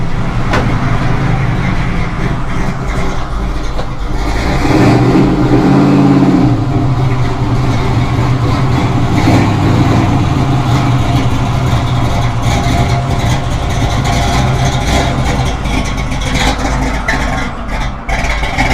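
A 1972 Chevrolet Nova V8 idles with a loud, close, lumpy cam lope, a rough uneven rumble that swells briefly as the throttle is blipped, then settles back into a steady choppy idle.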